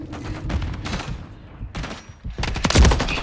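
Bursts of automatic gunfire crackle in a Call of Duty multiplayer match, with rapid volleys separated by brief pauses and a heavy final fusillade near the end.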